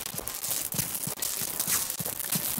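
Constant buggy audio glitch in the beta of The Division 2, a video game: a loud, dense crackling hiss running throughout, with repeated low thumping pulses beneath, no voices.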